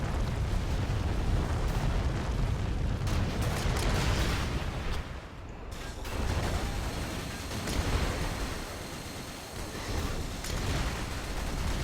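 Grand Slam bombs detonate in the real-time strategy game Rise of the Reds, a loud, continuous rolling roar of heavy explosions and blasts that barely lets up, with a brief dip midway before the rumbling surges again.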